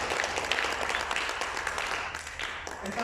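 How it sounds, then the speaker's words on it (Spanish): Applause fills a church service, a dense, steady wash of many hands clapping continuously for about three seconds with no clear pauses. "Gracias, en el nombre poderoso de Jesús, te aplaudimos y te damos todas las gracias."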